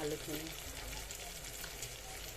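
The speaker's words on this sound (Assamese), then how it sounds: "মাংসখিনি তেল উঠি আহিছে, মানে মাংসখিনি প্ৰায় ভাজা হৈছে" Meat fries in hot oil in a pan, giving a steady, close sizzle with no breaks.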